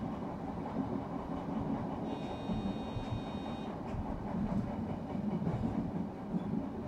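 An Odakyu Line Tama Express train runs between stations, heard from inside as a steady rumbling roll with faint rhythmic wheel clatter and a brief thin whine partway through.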